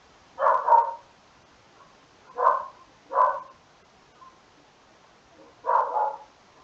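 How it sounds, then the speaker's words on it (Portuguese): A dog barks four times, short muffled woofs with pauses between, somewhat distant against a quiet background. "Cachorrinho zoando aí, né, galera?"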